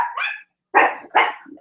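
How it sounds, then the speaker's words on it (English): Dogs bark in a home while someone paints: a yelp-like bark, a pause, then two loud close barks in quick succession. "Sorry about the dogs, guys."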